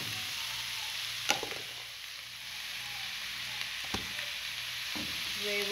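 Tomatoes frying in a pan for chicken escabeche, a steady close sizzle with a few sharp clicks of a utensil stirring, no talking.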